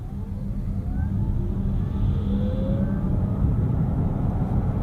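An Opel Mokka-e electric car accelerates hard in sports mode, a steady rising whine and road rumble heard from inside the cabin, with no talking.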